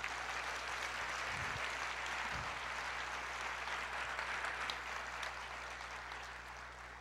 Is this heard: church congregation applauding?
yes